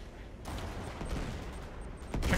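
Blind-fire gunshots in Uncharted 3, a short burst of sharp cracks over a low rumble, a couple of distinct shots with a louder impact at the end.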